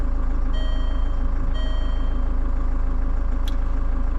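Range Rover Evoque engine idling with a deep, steady rumble throughout, close and loud, with faint intermittent electronic warning beeps and a brief high chirp near the end.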